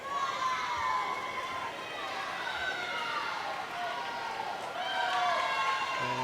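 A crowd at a girls' high school swim meet, Centennial vs. Blaine, cheers and shouts continuously through the final 50 of a race, a loud wash of voices that swells near the end.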